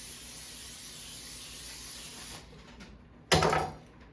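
Pam cooking spray hisses steadily onto a rack set in a baking pan for a couple of seconds, then stops, followed by a sharp knock or clatter as something is set down.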